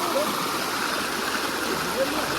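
Icy snowmelt stream in Neelum Valley, Azad Kashmir, rushing and gurgling in a steady close wash of water, with faint talk barely audible beneath it.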